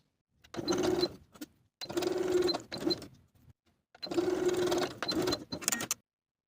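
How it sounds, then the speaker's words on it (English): Sewing machine running in three bursts as it top stitches elastic with a zigzag stitch over gathered fabric, a steady buzzing whir with brief pauses between runs, close and clear with no talk. "I'll top stitch that in place over my gathering stitches using a zigzag stitch."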